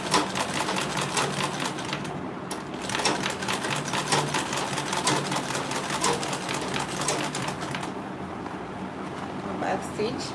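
Sewing machine stitching a half-inch seam on a mini grocery tote bag, running in a steady rapid rhythm for the whole stretch with brief pauses for back stitching, while a person talks over it.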